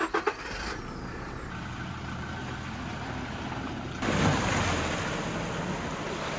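Off-road vehicle crossing a river, a steady rushing wash of water and engine rumble that swells louder and splashier partway through, heard close with no talk.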